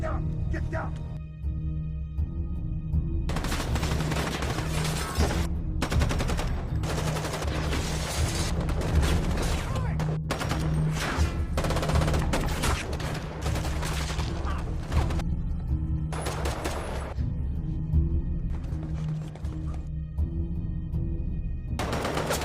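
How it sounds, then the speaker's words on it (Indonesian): Sustained heavy gunfire from a film shootout in Den of Thieves, including machine guns, bursts of rapid shots and explosive blasts layered over a loud dramatic soundtrack, dense and continuous throughout. "Disinilah adegan tembak-menembak yang tegang terjadi."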